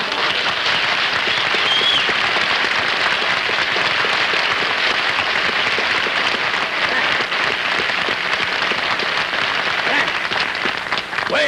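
Dense, sustained studio audience applause greeting Frank Sinatra on a 1952 live television comedy hour, a loud continuous wash of clapping that holds steady throughout.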